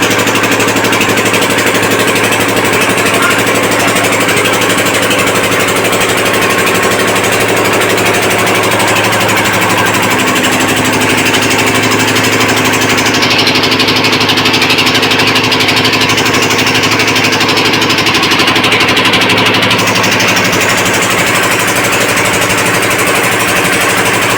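A side borewell boring machine runs down inside a farm well, a loud, steady mechanical drone with a rapid hammering pulse that carries on without a break for the whole stretch.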